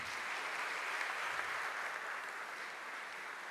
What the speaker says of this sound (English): An applause from them.